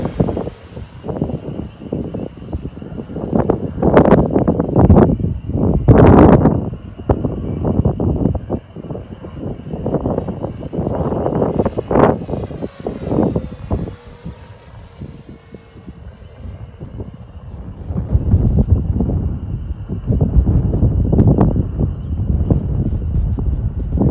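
An FMS P-47D Razorback 1500mm PNP RC model plane flies at a distance over a field, its electric motor droning and rising and falling steadily throughout, mixed with wind buffeting the microphone.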